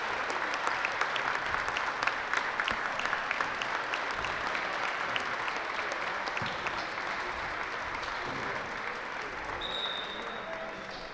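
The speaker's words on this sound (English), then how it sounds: "She'll get a big hand from the crowd." A crowd at a girls' high school state tournament basketball game gives sustained applause as an injured player is helped up. The clapping stays loud and steady throughout, with a faint whistle-like tone near the end.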